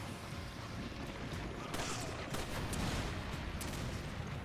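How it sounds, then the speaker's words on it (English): Dense, continuous rumbling blasts and booms from explosions in Resident Evil 5, with scattered sharper cracks layered over a steady roar. "There's a lot of explosions happening."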